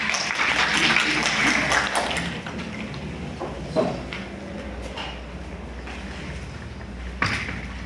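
An audience at a university innovation forum session applauds as a presenter is introduced, the clapping strongest at first and then thinning into scattered claps and room noise.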